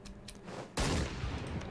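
Battle in the Europa Universalis IV strategy game: a quiet stretch gives way to a sudden loud wall of crackling gunfire and booming cannon that holds steady to the end.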